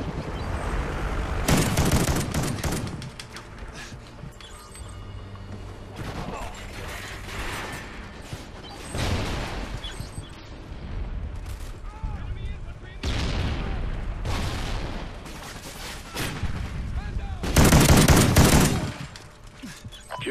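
Bursts of shotgun fire come from Call of Duty: Ghosts online play, a Bulldog shotgun among the weapons. Loud blasts recur every few seconds through continuous game sound, with one especially heavy burst near the end.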